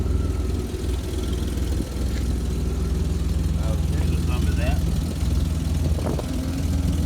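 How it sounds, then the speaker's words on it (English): An old Honda truck engine runs at a low, steady idle nearby, a continuous rumbling drone while someone speaks briefly over it. "Sound like a good little old truck."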